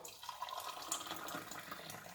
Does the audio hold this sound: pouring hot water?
yes